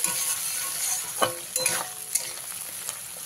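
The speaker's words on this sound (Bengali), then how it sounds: "গ্যাসের ফ্লেমটাকে মিডিয়ামে রেখে ভালো করে ভেজে নিতে হবে" Tomato and coriander leaves fry in oil over a medium gas flame, a continuous quiet sizzle broken by a few sharp scrapes and taps of a spatula stirring in the pan.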